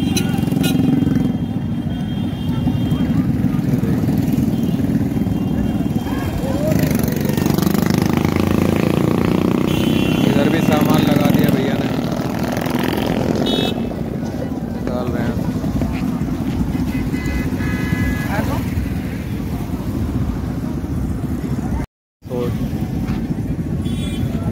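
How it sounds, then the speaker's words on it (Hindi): A motorcycle rides through water on a flooded road between Haridwar and Rishikesh, its engine a steady, close drone blended with splashing and wash. Someone talks over it almost throughout, and there is a brief dropout near the end. "अपनी बाइक भी पूरी चल रही है दबा के"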